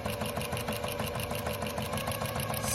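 A sewing machine back stitches along the binding of a baby quilt, its needle chattering in a quick, even rhythm that stays close and steady throughout.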